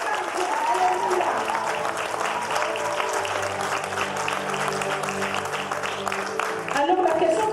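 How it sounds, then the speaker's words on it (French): A church congregation claps and applauds steadily at a worship gathering, a dense continuous roar of many hands with a voice briefly heard over it. "Alors je t'invite à acclamer le Seigneur notre Dieu. Acclame bien, acclame bien."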